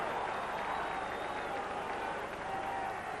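Rugby crowd at a Schweppes Cup quarter-final between Llanelli and Pontypool in 1984, cheering after a successful kick that put the first three points on the board; a steady, broad roar of massed voices with light applause, sustained throughout.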